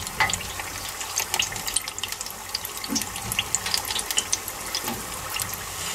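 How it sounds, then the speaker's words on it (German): Spring rolls made with ready-made pastry sheets deep-frying in hot oil give a steady, dense bubbling sizzle with bright crackles throughout, loud and close, with no voices. "ich frittiere die jetzt fertig"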